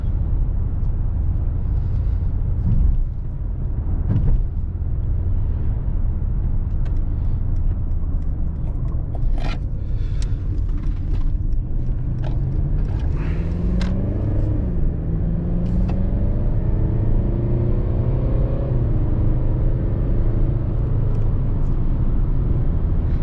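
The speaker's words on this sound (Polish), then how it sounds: "Silnik jest tak wyciszony" Mercedes-Benz E220d W213 estate with a well-insulated diesel engine, driving along a road: a steady, subdued low rumble with soft tyre and road noise, rising slightly in pitch as it gathers speed, with no speech.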